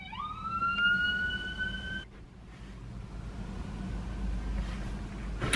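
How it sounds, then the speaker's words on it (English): An ambulance siren wails nearby, a rising tone for about two seconds that cuts off abruptly, followed by a steady low road rumble. "The ambulance is coming for you."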